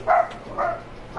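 Dogs barking at a distance, two separate barks spaced about half a second apart, moderately loud against a quiet background with no talk.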